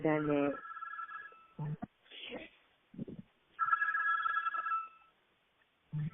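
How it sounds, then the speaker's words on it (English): A landline house phone rings in short electronic trills, heard thin and distant as over a call line, alternating with a person talking nearby. "No, that was my house phone"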